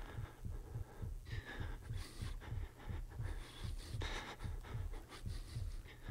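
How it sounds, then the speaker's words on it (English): Heartbeat in a video game, a steady, quick, low double-thump pulse repeating about twice a second, close and continuous, with faint breathing and hum over it and no talk. "The fact that his heart is beating faster"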